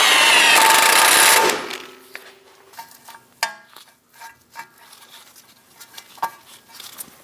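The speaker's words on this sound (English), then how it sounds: "I'm going to lift up on my knuckle and I'm going to snug down the nut." A nut being snugged down on the lower control arm of a Chevrolet Express van: a loud, continuous power-tool burst lasting about a second and a half, then scattered metallic clicks and light taps at close range.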